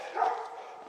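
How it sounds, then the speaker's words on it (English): Dogs bark in a short burst, fairly close, with a rough, mid-pitched tone and no one talking over it. "That sounds like two dogs to me."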